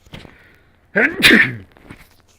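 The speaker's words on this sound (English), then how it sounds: "I've got to sneeze." A single loud, close sneeze bursts out after a short quiet intake of breath, followed by faint rustling.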